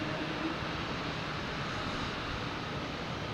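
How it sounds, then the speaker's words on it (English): A Lufthansa Airbus A340 comes in to land at Boston Logan, a broad continuous jet roar held at a steady, moderately distant level with no speech. "we have the Lufthansa A340 coming in, paired with a JetBlue"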